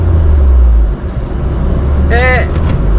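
Honda Jazz fitted with a swapped K20 engine driving, a steady low drone of engine and road noise filling the cabin, with a brief voice-like tonal sound near the end.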